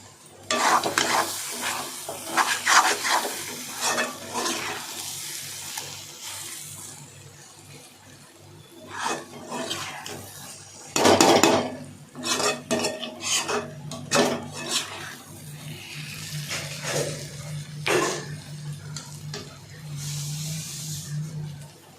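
Beaten egg is poured into a hot kadai and fries with a steady sizzle, broken by loud bursts of stirring and scraping with a metal spoon against the pan.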